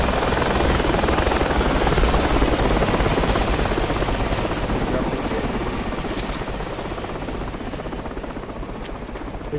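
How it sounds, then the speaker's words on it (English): A military helicopter flies in the video game Project Reality, its rotor churning in a loud, dense, continuous chop with a heavy engine roar that fades slightly toward the end. "I'm assuming your squad lead is flying the helicopter?"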